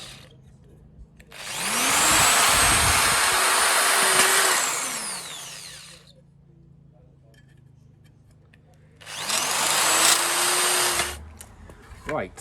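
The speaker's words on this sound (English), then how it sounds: "start by drilling these holes here." A power drill fitted with a metal bit whines through two long drilling bursts into metal, loud and close, separated by a quiet pause with faint clinks.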